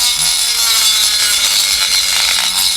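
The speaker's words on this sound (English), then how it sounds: "we'll take the Dremel tool" A Dremel rotary tool grinds paint off a snapped metal frame where tack welds have broken, making a loud, constant high whine that holds steady with no pauses.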